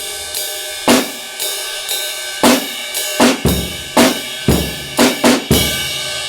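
A drum kit plays a steady pattern of snare, ride cymbal and bass drum, with crisp, loud, evenly spaced hits and ringing cymbal wash between them.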